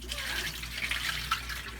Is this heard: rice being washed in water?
yes